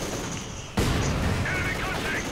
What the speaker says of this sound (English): Mortars, mate, mortars.